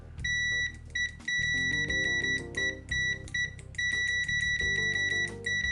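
Continuity-test beeps from a UNI-T UT191T multimeter, a loud, bright electronic tone sounding in repeated bursts as the probes make and break contact, alone.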